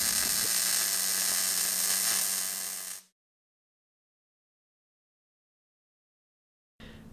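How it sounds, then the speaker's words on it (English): MIG welding gun running one straight weld on a joint, a loud, steady crackling buzz that holds for about three seconds, then cuts off into silence before a brief burst returns at the end. "You make one straight weld."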